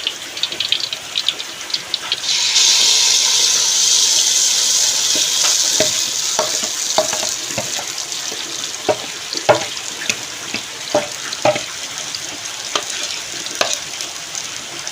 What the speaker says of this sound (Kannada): ತುಪ್ಪಿದ ಹಿಟ್ಟನ್ನು ಆ ಪಾತ್ರೆಗೆ ಹಾಕುವ